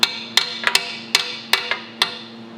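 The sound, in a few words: hammer tapping metal into place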